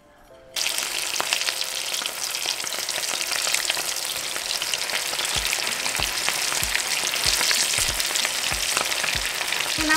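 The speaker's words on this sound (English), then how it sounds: "we are ready to fry them" Ground beef and potato flautas frying in oil give a loud, dense, continuous sizzle that starts abruptly and keeps up, with faint low knocks repeating toward the end.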